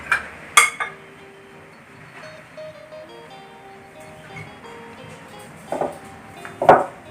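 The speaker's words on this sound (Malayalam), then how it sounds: "ഇതെല്ലാം കൂടി നന്നായി ഒന്ന് മിക്സ് ചെയ്യുക" Egg and salt are mixed for spicy hash browns in a bowl, heard as a series of close clinks and scrapes of a utensil against the dish, with short bursts separated by quieter gaps.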